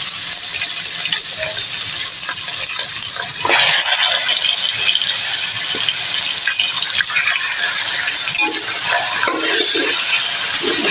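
Garlic and ginger paste fries in a pot while making nihari, giving a steady, loud hiss and crackle throughout with occasional stirring scrapes.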